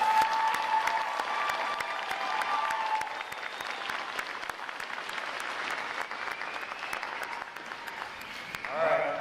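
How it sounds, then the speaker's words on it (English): A large crowd at a U.S. Navy boot camp graduation applauds the state and territory flag, drum corps and color guard unit, sustained distant applause with scattered cheering and some sharp nearby claps, and voices mixed in. "How about a round of applause for their performance today, folks?"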